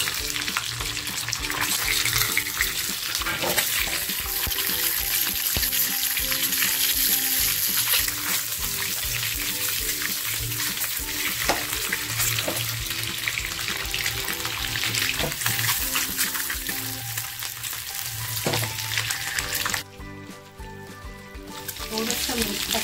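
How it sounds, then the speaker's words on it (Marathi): Eggs drop into hot oil in a pan for anda masala and crackle with a loud, continuous sizzle and spatter, with a brief quieter dip near the end and a voice speaking over it. "तेल बघा छान तापलेलं आहे। आता त्याच्यामध्ये अंडी सोडतीये।"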